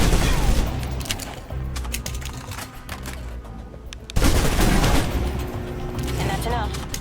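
Submachine gun fire in the Alpha Protocol video game, loud sustained bursts of rapid shots with brief gaps and a heavier volley near the end, under occasional talk.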